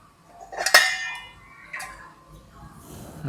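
A metal lid set down onto a cooking pot of steamed puttu-like snack in a home kitchen, giving one bright clang with a ringing tail, followed by a softer knock and quiet background sounds.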